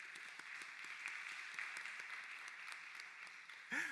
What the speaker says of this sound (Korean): 우리 격려의 박수 할까요?